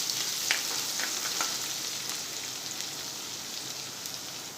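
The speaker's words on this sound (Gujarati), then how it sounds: "આપણે 1 મિનિટ આને સાતળી લઈશું અને મરચાં પણ સરસ સંતળાઈ જાય" Dried chilies and peanuts sauté in hot oil in a pan, a steady close sizzle and crackle running throughout.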